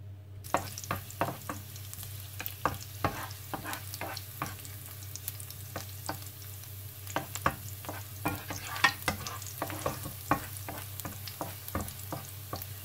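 Garlic and shallot frying in oil in a pan, a steady close sizzle with frequent sharp crackles and stirring clicks scattered throughout, no voices.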